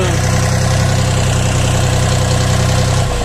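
A Dongfeng 244 DHX mini tractor engine runs close and loud with a steady throbbing diesel rumble and vibration, moving off smoothly in third gear, continuous throughout without talk.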